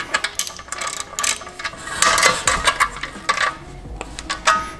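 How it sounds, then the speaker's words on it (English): Hand ratchet tightening a fastener on an aftermarket MST intake heat shield in a BMW F30 engine bay, close rapid clicking bursts in uneven runs with metallic ticks, no voices. "So I'm gonna go ahead and tighten this down here with my ratchet."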